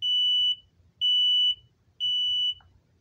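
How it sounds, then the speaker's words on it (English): Three loud, shrill beeps from a cheap smoke alarm, each about half a second long, repeat at an even one-second pace with silence between them. "And I have a cheap smoke alarm."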